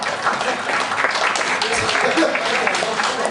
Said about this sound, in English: applaud if you were ever happily married